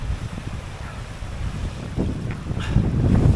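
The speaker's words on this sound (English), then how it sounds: "easily 50 plus miles an hour wind now" Strong wind of 50-plus mph buffeting a microphone on a hill pass, gusty low roaring that builds and grows louder toward the end, with a few faint knocks.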